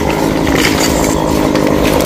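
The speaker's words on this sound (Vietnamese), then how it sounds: "nên nhờ có Hoa cưa tỉa cành và cắt bớt cái phần ngọn đi" A chainsaw runs loudly and steadily, close by, while trimming branches and cutting off the top of a 26-metre golden oak.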